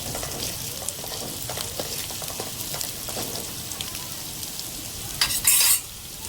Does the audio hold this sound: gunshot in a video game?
no